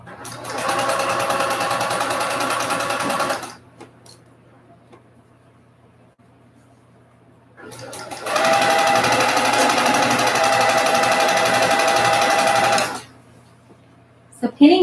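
A sewing machine runs steadily while stitching a quilt block for a summer sampler, in two long, loud, even bursts with a quiet gap between them.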